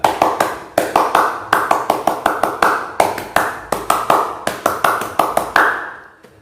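A group claps the Indonesian scout rhythm, tepuk pramuka: crisp, loud hand claps in quick repeated patterns with short pauses between phrases, nearby, ending in a final clap.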